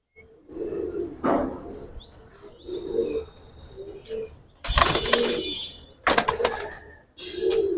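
Giribaz flying pigeons coo in a loft, with soft rolling coos and higher chirps separated by several loud bursts of wing flapping, close and fairly loud.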